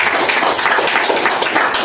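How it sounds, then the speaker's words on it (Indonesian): A church congregation applauds Bapak Ais at an inaugural service and handover of unit officials, dense loud clapping filling the whole short stretch without pause. "tepuk tangan pada Bapak Ais"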